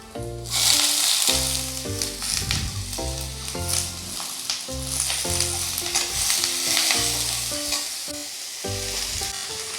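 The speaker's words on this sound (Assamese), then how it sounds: "এতিয়া মই পাতখিনি দি দিম, ৰঙালাওৰ পাত।" Pumpkin leaves hit hot oil with fried garlic in a pan, a loud continuous sizzle with stirring clatter and a strong rhythmic tonal background running underneath, no talking.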